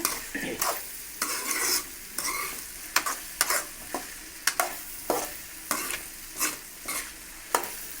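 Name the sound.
stirring potato poriyal with masala in a pan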